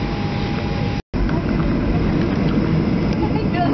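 A passenger jet rolls onto the runway, its engines a loud steady roar heard from inside the cabin, broken by one brief dropout near the start.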